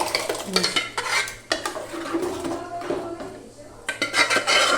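Pav ragdo is stirred in a pot, a ladle scraping and clinking against the metal in quick uneven strokes over a faint sizzle; close, with brief voices now and then.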